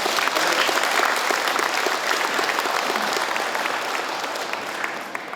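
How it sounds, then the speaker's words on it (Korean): A crowd at a public forum on the birth-rate crisis in Seongju, South Korea, applauding loudly, continuous clapping from many people that stays strong and fades only a little by the end. "큰 박수 한번."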